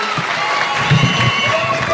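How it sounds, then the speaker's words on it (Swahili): Crowd applause at an outdoor political rally in Etago Green Stadium, South Mugirango, Kisii County, a broad sustained clatter of clapping with scattered cheers, steady and moderately loud throughout. "Tumpigie makofi mheshimiwa CS Machogu"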